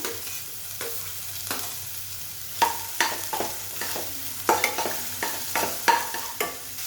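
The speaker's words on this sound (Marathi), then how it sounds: "कढाईत थोडंसं बटर घेतलं आहे आणि त्यात मी हा कांदा टाकणार आहे त्याला थोडा फ्राय करून घेऊया" Onions sizzle steadily in hot butter in a wok, punctuated by repeated scraping clinks of a spatula stirring, close and moderately loud.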